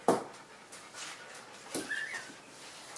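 A dog whimpers and pants nearby in short, soft bursts, a sharp whine opening the stretch and breathy panting recurring in uneven puffs, fairly quiet, without talking.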